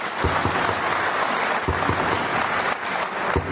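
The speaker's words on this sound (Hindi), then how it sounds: "मैं चाहूंगा एक बार हमारे पूज्य पिताजी के लिए जोरदार तालियां हो जाए" Heavy, sustained applause fills a hall at a railway goods-shed workers' union event, a thick uninterrupted wash of clapping with a few sharper thumps and claps standing out near the front.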